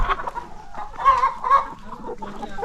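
Brown chickens roaming freely in a poultry house during a morning inspection, clucking and squawking in short overlapping bursts at moderate distance, with no talking.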